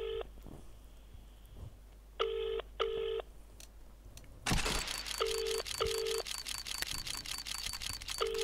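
A telephone rings unanswered during an online Counter-Strike match stream, repeated paired electronic ring tones with pauses, then a louder burst of ringing and busy tones over a steady hum.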